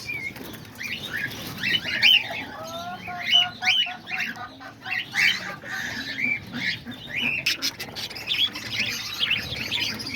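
Cockatiels and lovebirds in a backyard aviary chirp and tweet continuously, with bright overlapping calls, short whistles and occasional wing flaps, fairly close with no voices.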